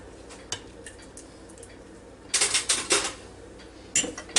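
Meatloaf and potatoes from a Ninja Foodi Deluxe are served onto a plate, with scattered clinks of utensils and a quick flurry of scraping, clattering taps against the dish, nearby and without voices.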